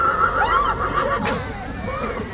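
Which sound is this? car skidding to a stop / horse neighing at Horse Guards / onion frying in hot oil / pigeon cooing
horse neighing at Horse Guards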